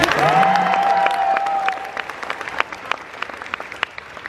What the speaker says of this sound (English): Can I hear a round of applause for that?